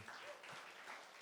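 A church congregation at a GBI Sunday worship service in Tigaraksa breaking into applause, a short dense burst of clapping heard from a distance in a reverberant hall.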